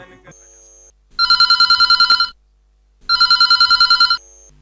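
A telephone rings for a Hindi folk-song call-in show on All India Radio Sagar, two loud bursts of rapid electronic trilling separated by a pause, close and clear.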